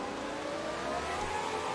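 Race car engine in the F1 2020 video game at Monaco in wet, spray-filled conditions, a steady droning roar with a low rumble rising slightly as the car accelerates up the hill, continuous throughout.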